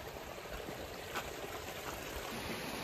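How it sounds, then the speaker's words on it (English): A mountain stream near the summit trail runs in the rain on a winter camping trip, a steady close rush of water filling the clip evenly with no voices. "this is kind of the last stream to the top"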